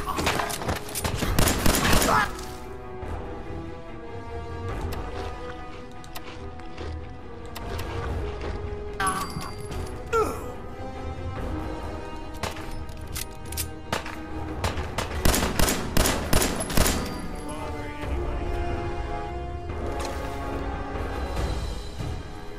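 Gunfire in Fallout 4, with bursts of shots and sharp impacts scattered across a busy game soundscape, the loudest cluster near the start and more volleys later, under background game noise.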